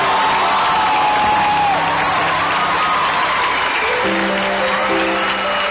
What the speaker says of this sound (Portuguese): Uma salva de palmas para Maria Santíssima,